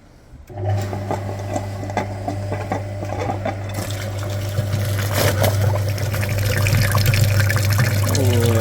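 A cleaning machine hums steadily as water sprays and gurgles through the front radiator of a Skoda Octavia Tour 1.6 BFQ cooling system, the flow growing louder and rougher over time.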